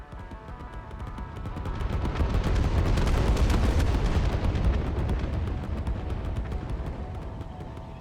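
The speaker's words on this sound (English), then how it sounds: "the simple way of just mass bombing everything around" Dynamite detonations from mass bombing in Satisfactory, a deep rumbling chain of blasts that builds into a heavy, sustained roar before slowly tapering off, loud and close with no talking.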